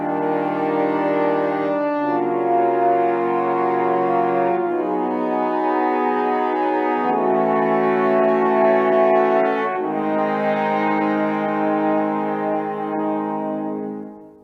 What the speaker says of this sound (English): 4 French horns playing chords